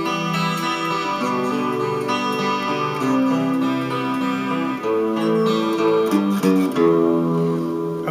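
Guitar playing a second round of a riff, a steady chain of picked notes with sustained tones, close and unaccompanied by speech.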